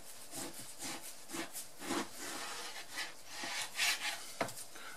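Knife slicing bacon into pieces for shashlik skewers, heard as a series of soft rasping, sawing strokes close by, uneven in rhythm and fairly quiet, with no talk.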